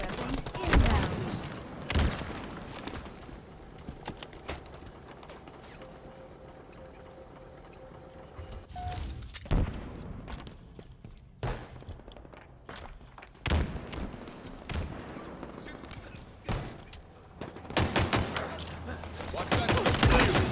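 Gunfire from a Halo Infinite multiplayer match, with bursts of shots and heavy thumps scattered through the stretch, loudest near the start and end amid busy game sounds.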